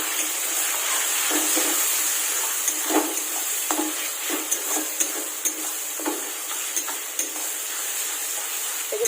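Chilli, cumin, coriander and turmeric powders sizzling and being stirred in a hot pan for a Bengali chicken dish, a steady fry with repeated scraping strokes of a spoon against the pan, close and clear with no voices.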